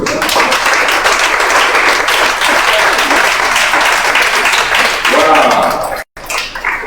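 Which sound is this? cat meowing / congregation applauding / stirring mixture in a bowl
congregation applauding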